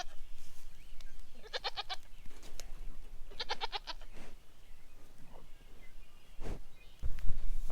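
Two bursts of goat bleating on a farm, each a quick run of wavering, pulsing cries, with a few scattered farmyard noises and a thump near the end.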